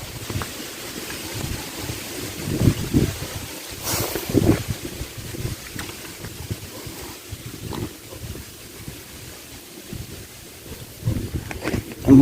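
Strong wind gusts at night around a hut with a tin sheet roof rumble and buffet close to the microphone, surging and easing in uneven, low bursts throughout.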